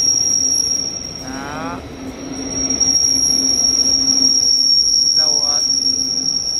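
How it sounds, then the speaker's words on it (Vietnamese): Electric train at a Berlin railway station, a steady rumble under a constant high whine, with two short wheel squeals as it moves, a voice speaking briefly in between. "xe lửa này chạy bằng điện. Bên này cũng chạy rồi."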